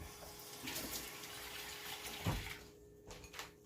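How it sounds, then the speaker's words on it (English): A kitchen tap runs steadily as a hand is held under the stream, a faint, continuous splashing wash nearby with no talk. "I literally just put my hand under the water"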